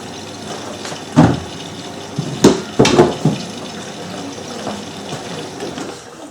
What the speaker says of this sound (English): We're on the pre-wash now.